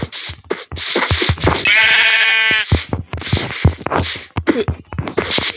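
A sheep in the video game Craft World lets out one long, drawn-out bleat midway through, loud and close, with choppy game sounds before and after it.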